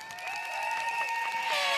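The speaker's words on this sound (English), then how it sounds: "Let's give them all a round of applause." Applause from the crowd at a PAP election rally in Sengkang during GE2025, a steady broadband patter lasting the whole moment, with a few cheering tones and whistles rising above it near the end.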